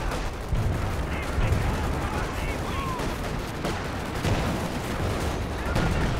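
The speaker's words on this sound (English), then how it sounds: "Artillery dropped over here from Muno." Artillery barrage in the game Company of Heroes 2: a dense, continuous rumble of distant shelling and gunfire with scattered sharper impacts, steady throughout.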